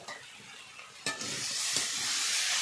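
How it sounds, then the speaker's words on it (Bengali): Mixed vegetables with green chilli and chilli powder fry in a pan; a soft sizzle jumps to a loud, steady hiss after a sudden knock and stays strong to the end. "ভালোভাবে সবজিগুলো ভাজা হয়ে গেছে"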